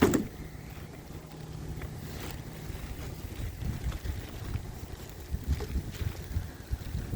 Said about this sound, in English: The wind is really picking up on this thing.